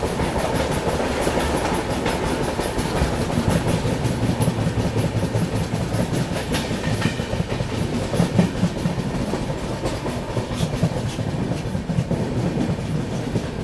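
An Indian Railways train approaching Dadar station in Mumbai rumbles steadily along the tracks with rhythmic clickety-clack from the wheels, a continuous loud ride with no voices.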